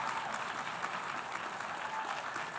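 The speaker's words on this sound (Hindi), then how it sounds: "सिर्फ इजराइल के लोग ताली बजा रहे हैं।" A small group applauds a Netanyahu speech with steady, fairly faint clapping that carries on evenly without voices over it.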